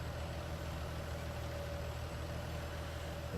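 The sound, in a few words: tractor engine idling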